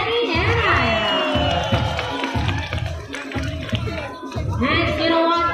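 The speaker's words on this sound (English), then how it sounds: "About a round of applause for Yenny and I." Audience at a marine park animal show gives a round of applause, a dense wash of clapping and cheering that fills the whole stretch, with crowd voices and children's shouts mixed in and loud throughout.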